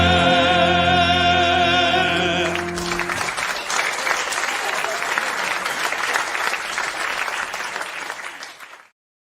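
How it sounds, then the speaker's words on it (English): Applause from a comedy audience fills the room, rising out of a musical sting, then a dense, steady wash of clapping that holds loud and close before stopping abruptly. "Oh, the sound of applause."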